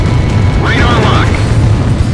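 A missile strike explosion in the flight combat game Ace Combat Zero: The Belkan War, a single loud booming burst over a constant roar of jet engine noise.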